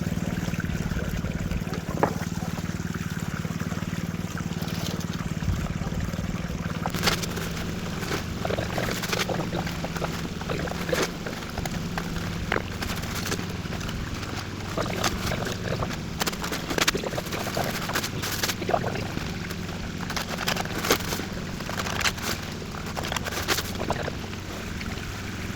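Water and scooped gravel washing through a mini sluice on the Fraser River, a steady loud rushing flow with scattered gritty clatters and splashes, outdoors and close.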